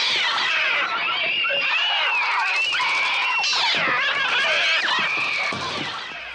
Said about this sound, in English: the sounds of the birds are birds, but they're also very cat-like